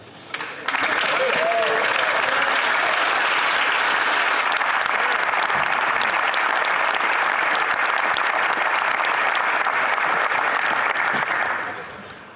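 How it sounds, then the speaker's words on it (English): Sustained applause fills the House of Commons, a dense, loud wall of clapping from many members that builds quickly, holds for about ten seconds, then fades out. "Appreciate some of the applause from the other side"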